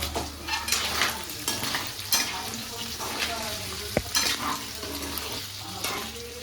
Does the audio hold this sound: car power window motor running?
no